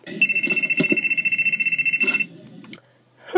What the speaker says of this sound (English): Who am I kidding? It's somebody's phone.